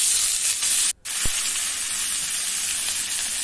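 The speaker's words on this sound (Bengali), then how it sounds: "এবারে কেটে রাখা কোয়াশগুলো দিয়ে দিচ্ছি" Cut squash pieces hit hot oil already tempered with five-spice and bay leaf, giving a loud, continuous hissing sizzle with a brief dip and one sharp clack, then steady frying that stays close and strong with no voices.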